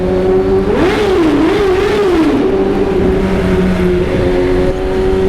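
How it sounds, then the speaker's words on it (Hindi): A loud heavy sports motorcycle engine revs through its exhaust and rises in pitch, wavering up and down before settling into a steady rumbling idle, with no voices. "जो उसका एक प्रॉपर हैवी बाइक का साउंड है"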